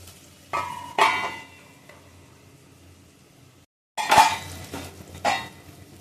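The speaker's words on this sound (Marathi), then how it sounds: "आता थोडं झाकण घ्यायचं." A lid set down on a cooking pan of aloo palak bhaji with mashed tomatoes, giving a few sharp metallic clinks and clatters in two brief bursts, close and fairly loud against a quiet kitchen.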